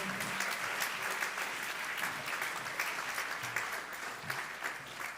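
Audience at a French poetry slam competition applauding the poets, a sustained thick wash of clapping from a large crowd, steady and even throughout at moderate level, with no voices over it.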